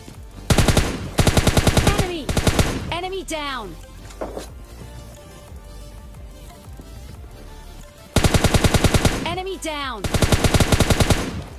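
Rapid automatic gunfire in a video game, two loud bursts of quick shots with a quieter stretch between them, heard alongside in-game sound effects.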